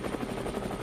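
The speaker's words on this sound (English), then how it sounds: "This chopper, the Black Hawk" A Black Hawk helicopter hovers in the video game Brick Rigs, a steady whirring rotor drone with a fast, even pulsing thump, constant and close with nothing else over it.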